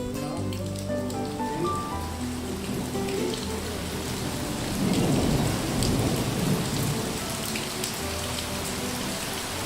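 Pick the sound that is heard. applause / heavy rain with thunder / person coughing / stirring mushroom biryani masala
heavy rain with thunder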